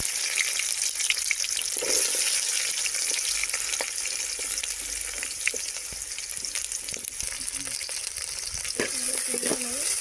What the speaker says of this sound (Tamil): நல்லா ரோஸ் நல்லா ப்ரௌன் கலரில் வர அளவுக்கு நல்லா வதக்கும்